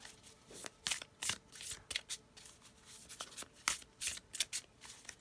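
A deck of tarot cards is shuffled for a reading in a run of quick, crisp riffling bursts, repeated irregularly and close by, with no talking.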